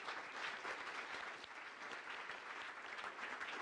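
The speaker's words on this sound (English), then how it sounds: "join me with a round of applause for all 5 of them" An audience applauding five ministers at a conference on strengthening the European monetary union, a sustained, even roar of many hands clapping, faint and continuous with no talk.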